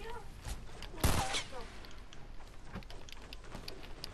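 Fortnite gunfire: a single loud burst of shots stands out near the middle, with faint scattered pops and game ambience around it.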